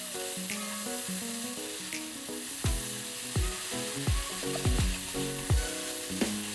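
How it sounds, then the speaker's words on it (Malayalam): Mixed vegetables for a Kerala thoran sizzle steadily in a hot pan while being stirred, a continuous hiss under music with tonal notes and sharp drum hits. "ഒന്നും കൂടി നന്നായി വഴറ്റി കൊടുക്കാം. നല്ലോണം മിക്സ് ചെയ്ത് കൊടുക്കാം."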